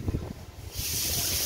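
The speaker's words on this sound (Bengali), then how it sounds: "হাওয়া আছে।" Wind blowing outdoors on an overcast rainy-season day, first buffeting the microphone in low gusts, then settling into a steady, fairly loud rushing hiss.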